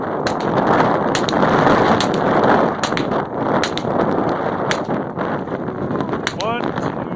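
Gunshots at a marksmen challenge match held outdoors during a snowstorm, heard as a series of sharp cracks spaced about a second apart over heavy wind noise.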